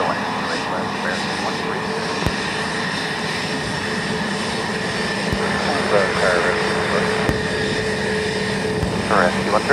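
An American Airlines jet landing on runway 28 left at Dublin Airport, steady engine drone at moderate distance with faint clicks, under air traffic control radio talk.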